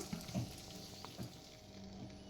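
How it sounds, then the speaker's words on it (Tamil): Pearl millet ingredients fry in a pan until golden, giving a steady low sizzle with faint scraping stirs now and then, close and fairly quiet. "இது நல்லா பொன்னிறமாக வறுத்துக்கோங்க"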